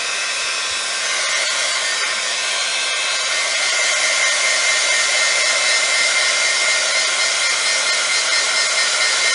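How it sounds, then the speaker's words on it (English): A heat gun blows hot air onto polymer clay coated with embossing powder, giving a loud, steady whooshing roar that holds constant throughout with no pauses and no voices. "I always heat my heat gun up off the surface that I'm working on."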